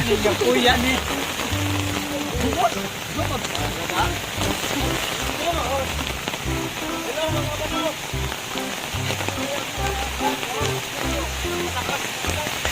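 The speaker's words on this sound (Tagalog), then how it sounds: "Ulan!" Steady rain pours and patters on surfaces, a dense continuous hiss close by, with brief murmurs of voices beneath it.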